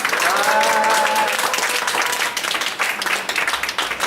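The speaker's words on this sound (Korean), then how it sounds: "박수 한번 쳐주겠습니다" A church congregation at a farewell gathering applauds, with dense clapping throughout and a voice sounding over it near the start.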